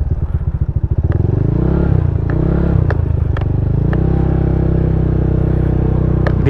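A motorcycle engine runs close by on a flooded road, a steady low chugging throb with periodic clatter and splashing knocks over a continuous rumble.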